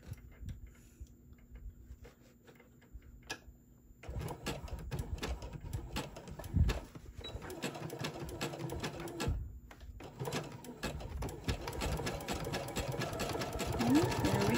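Sewing machine zigzag stitching along the side of a faux leather zipper pouch, starting quietly, then running in steady bursts of rapid mechanical clatter with brief pauses, close and clear with no talk.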